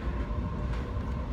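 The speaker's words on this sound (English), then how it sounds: "The train." Steady rumble of a passenger train in motion, heard from a seat inside the carriage, with a continuous low drone and faint rail clatter throughout, no talking.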